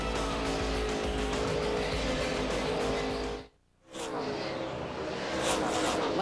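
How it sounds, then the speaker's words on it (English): NASCAR Busch Series stock cars racing at Phoenix International Raceway roar loudly and continuously, engines droning with tire squeal, broken by a brief gap of near silence before the pack noise returns. "First lead change of the race as Jamie McMurray goes by Kyle Busch at lap 85 of 200"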